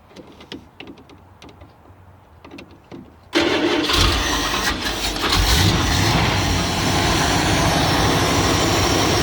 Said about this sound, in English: this thing should just start right up